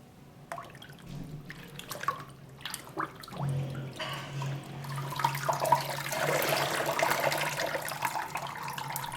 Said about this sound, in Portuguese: É só mergulhar na água e sai facilmente.